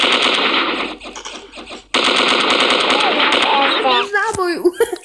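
Rapid automatic gunfire from a video game, loud and dense bursts with a brief pause, followed by whooshing and warbling game effects toward the end.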